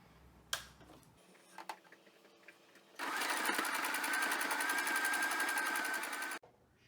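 Sewing machine stitching around the edge of a small fabric bookmark, a fast even mechanical whirring run of about three seconds that starts abruptly and stops sharply after a few faint clicks and handling noises.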